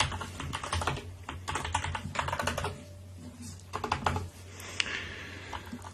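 Rapid keystrokes on a computer keyboard while logging into a computer system, irregular bursts of close, clicky taps over a steady low hum, with brief pauses between runs of typing.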